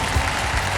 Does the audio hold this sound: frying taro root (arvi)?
no